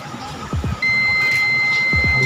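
A PC motherboard gives a POST beep during repair: a steady, piercing electronic tone begins partway through and holds to the end, over low handling clicks and background hiss.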